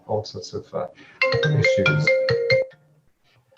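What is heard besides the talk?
mobile phone ringtone ringing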